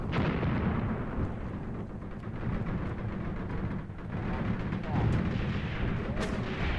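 Grenade blasts and gunfire in the video game African Border War, a South African Defence Force battle, form a dense, continuous roar of booming explosions with sharper reports rising out of the din.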